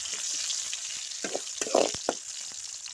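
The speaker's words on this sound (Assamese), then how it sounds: "ইফালে পিয়াজ ৰঙচুৱা হৈ গৈছে পিয়াজ ৰঙচুৱা হৈ আহিছে" Onions fry in a hot pan for chicken bonalu, a steady bright sizzle running throughout, broken by a few louder crackling bursts as they are stirred.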